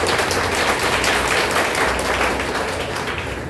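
An audience applauding to welcome guests at a company gathering, dense continuous clapping, loud and sustained with no pauses.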